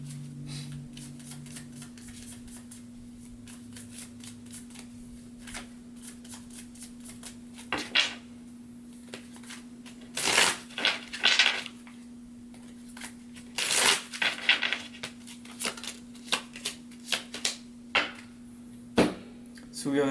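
Tarot cards being shuffled and drawn, a series of crisp riffles and flicks that grow busier toward the end, close over a steady low hum, with a voice speaking at times.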